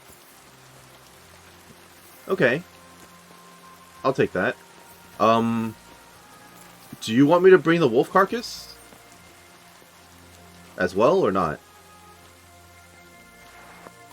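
Rain falls in Kingdom Come Deliverance 2 as a faint, steady wash beneath someone speaking in several short phrases.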